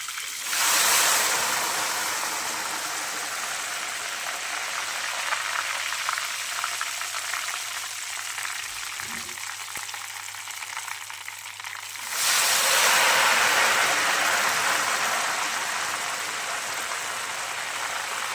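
Ghevar batter poured into hot oil, sending up a loud, steady sizzle and bubbling that eases slightly, then surges again with a fresh pour, with no talking.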